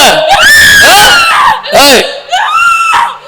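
A person screams loudly and repeatedly during an exorcism at a church in Nagapattinam, with long wavering shrieks broken by short gaps and a breathy, laugh-like edge.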